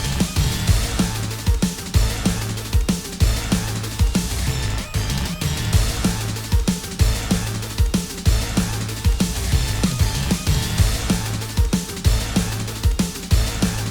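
Fleetway Super Sonic's Phase 1 theme from a Roblox Sonic.EXE game, a loud, dense electronic track with a pounding, steady beat and thick distorted layers running without pause.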